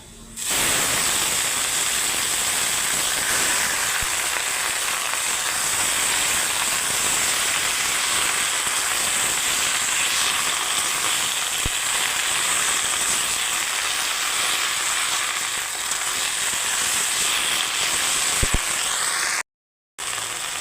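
Jute leaves fry with onions in a hot pan, making a loud, continuous hissing sizzle that holds steady to the end, then a brief gap near the close.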